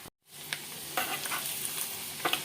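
Tempering spices for buttermilk soup crackling and sizzling in hot oil after a brief silence, with sharp pops and a spoon scraping the pan, close up.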